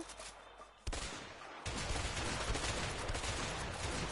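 Gunfire from a shotgun in the video game A Way Out: a sharp blast at about one second, then a second at about 1.7 seconds followed by sustained loud rattling fire and chaotic combat noise. No voices are heard.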